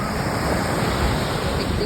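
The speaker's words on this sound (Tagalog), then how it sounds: "Dinadala ako ng alon." Ocean waves washing in at a beach in Subic, a steady broad roar of surf that holds loud and even throughout, with wind on the microphone.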